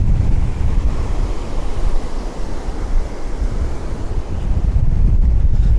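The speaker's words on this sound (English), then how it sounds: "It's getting windier now." Strong wind gusts roar across a beach, with steady surf washing in underneath; the blustery rumble stays loud and continuous, swelling slightly toward the end, with no voices.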